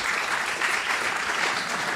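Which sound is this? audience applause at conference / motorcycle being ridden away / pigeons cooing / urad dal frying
audience applause at conference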